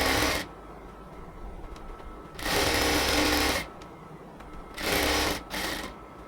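A sewing machine stitches the border of palazzo pants in three short bursts of close, buzzing whir, separated by quieter pauses with faint fabric handling.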